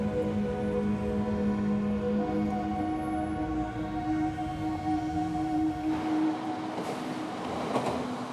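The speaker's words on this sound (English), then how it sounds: "People usually travel to their offices in Tokyo by train." Commuter train in Tokyo rumbling along steadily, with a continuous loud roar and low hum from start to finish and a brighter swell of wheel and track noise near the end.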